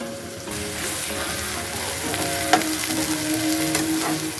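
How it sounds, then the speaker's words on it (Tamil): Onions sautéing in a pan for Tamil-style egg rice, a steady close sizzle with occasional soft stirring clinks. "இப்போ வெங்காயம் வந்து வதங்கிட்டு இருக்கு."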